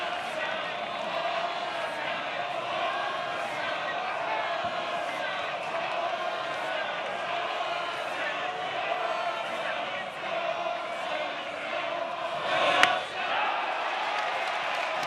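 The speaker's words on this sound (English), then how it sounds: "Goss Stadium crowd is making sure that Jackson Baker knows just how many consecutive balls he has thrown" A stadium crowd at a college baseball game, Oregon State hosting USC at Goss Stadium, keeps up a steady, dense roar of voices chanting together to count a pitcher's consecutive balls, with one brief louder burst near the end.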